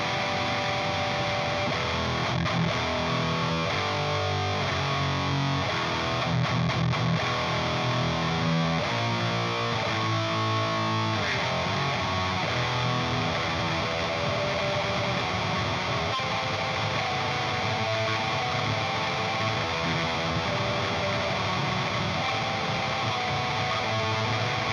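An electric guitar runs through a Revv distortion pedal on its chainsaw setting with the gain cranked, giving a dense, heavily saturated, buzzing tone that plays loud and continuous throughout, with no talking.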